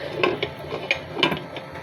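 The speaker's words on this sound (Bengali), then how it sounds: "ঢেকে দিচ্ছি আবার।" A cooking-pot lid clinks back into place over a simmering pot of beef and potatoes in a home kitchen, giving a few light metallic taps and rattles spread over a couple of seconds, close and fairly quiet.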